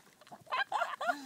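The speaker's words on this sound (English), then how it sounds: "Oh, chickens! Oh! Chicky, chicky, chickies!" Chickens cluck close by in a few short bursts, with a person's voice nearby.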